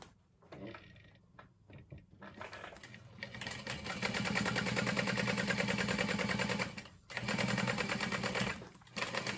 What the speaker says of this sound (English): I can hear that bobbin it's like I've got nothing left to give